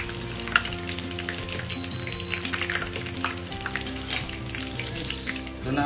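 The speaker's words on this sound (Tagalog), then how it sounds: "Haluin lang natin hanggang sa mag-crispy ang ating" Nachos frying in a pan of oil until crisp, a steady bubbling sizzle that runs throughout with occasional louder crackles and stirring scrapes, with a low hum beneath and no talk.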